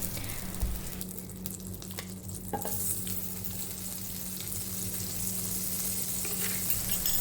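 Butter melting in a pan heated on a stove, giving a steady, soft sizzle and frying hiss that runs unbroken throughout, with a few light stirring clicks near the start and no voices.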